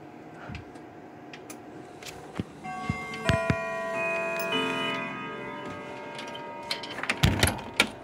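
A Howard Miller grandfather clock ticks steadily and close by, with a faint mechanical hum and a few brief knocks around the ticking.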